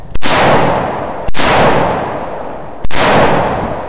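A semi-automatic rifle fired outdoors, three loud sharp cracks about a second or more apart, each followed by a long, rolling echo that fades slowly, with no voices.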